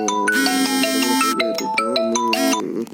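A mobile phone ringtone plays a bright, looping electronic melody of chiming tones, loud and close, repeating its phrase for about three seconds before cutting off at the end.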